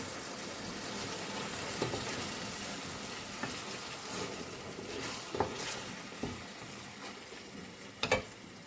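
Steady frying sizzle of chopped tomatoes in a pan, a continuous crackling hiss with a few louder pops and clatters of stirring, no voices.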